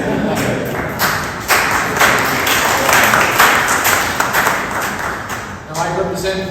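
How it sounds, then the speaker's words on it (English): Audience applause at a town hall in Hunts Point, Bronx, a dense, steady round of clapping that swells and holds for several seconds with a few louder thumps, then tails off. "You can applaud."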